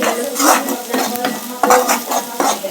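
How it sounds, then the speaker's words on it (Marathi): Garlic and ginger paste sautés in a pan while a spoon scrapes and clinks against the metal in quick repeated strokes over a soft steady sizzle, close and fairly loud. "लसणाचा आणि आल्याचा कच्चापणा जाऊपर्यंत छान परतून घ्यायचं"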